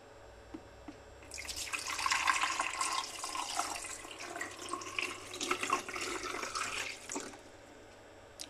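A Tommee Tippee formula maker runs with water in its tank, giving a steady rushing, splashing flow like a tap filling a cup that starts abruptly after a second, continues for about six seconds, then stops, with no talk.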